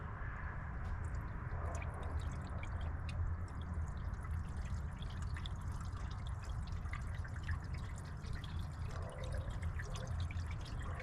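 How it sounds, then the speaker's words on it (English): Liqui Moly engine flush liquid is poured into the oil filler of a VR6 wagon engine, a quiet steady trickling and dripping that runs for about eleven seconds, with no talking. "All right, engine flush going in."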